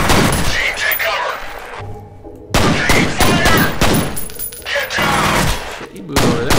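Gunfire from the F.E.A.R. video game: rapid bursts of automatic fire and sharp shots crackle loudly through the clip, with a brief lull before the shooting resumes, mixed with game voices calling orders.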